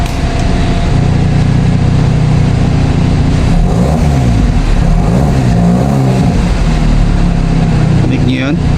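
Motorcycle or scooter fitted with an Emzoom R Style exhaust and muffler revving, a loud continuous engine drone rising and falling through the whole stretch, with the exhaust note sweeping up and down.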